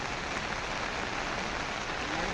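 Heavy rain pours at Kedarnath, a steady, dense hiss that fills the whole stretch evenly without pause, close and constant, with no clear voices over it.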